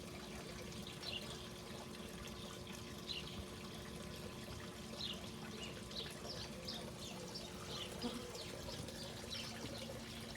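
Wort for a spruce tip dunkelweizen pumps through a coil cooler, pouring and trickling steadily into a vessel under a faint continuous mechanical hum, with occasional splashy bubbling accents.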